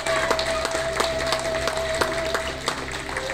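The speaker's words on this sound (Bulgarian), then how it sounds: "Още веднъж аплодисменти." Wedding guests applaud together, a dense, continuous wash of many hands clapping at moderate loudness over a low background hum, with no talking.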